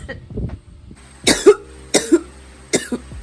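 A person imitates a dry cough, three sharp hacking coughs in a row, close and fairly loud, after a brief throat sound.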